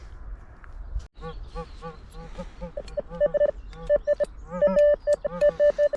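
Warbling electronic beeps from a metal detector rise and fall irregularly as an unstable signal, then settle into a string of short, repeated tones growing louder toward the end, while digging for relics in Bavaria.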